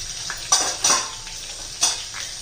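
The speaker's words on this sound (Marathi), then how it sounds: "पॅनमध्ये मी थोडं तेल घालून घेतलेलं आहे थोडीशी मी मोहरी घालते" Mustard seeds dropped into hot oil in a pan during banana katori chaat prep, giving a steady sizzle with several sharp crackling pops and clinks standing out, no talking.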